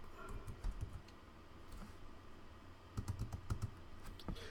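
Someone types Pascal code on a computer keyboard, a quiet, close run of irregular key clicks with small bursts of faster tapping and no speech over it.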